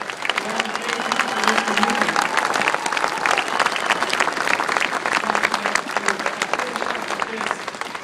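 A large audience gives a long, steady round of applause for two pastors at a community march, dense clapping with some crowd noise and faint voices underneath.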